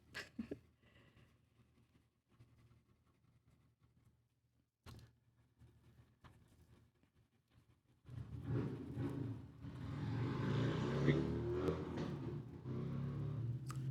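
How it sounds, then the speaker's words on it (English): Outside traffic passes faintly at first, with soft knocks and creaks nearby, then a car swells into a loud, sustained rumbling pass that dominates the second half. "There's a lot of traffic outside at this time."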